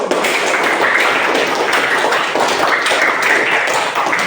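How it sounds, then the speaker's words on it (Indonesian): Children clap together in loud, close, steady applause that continues without a break for a few seconds. "Tepuk tangan yang gemuruh"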